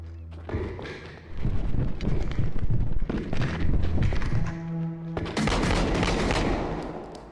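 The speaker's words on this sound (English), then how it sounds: "Shots fired! Shots fired!" Gunfire in the realistic bodycam-style shooter Unrecord rings out as a flurry of loud, close shots and thuds in irregular bursts, with a short pause before another volley.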